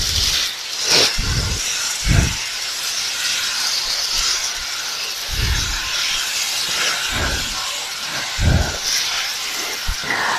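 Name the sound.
prawns frying in a pan, Kerala style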